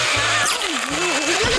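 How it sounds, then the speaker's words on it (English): In a Gumball cartoon scene, a power drill whirs loudly while chewing through an ear of corn, its pitch sliding and wobbling over short grinding bursts, close and alone. "From eating corn with a drill"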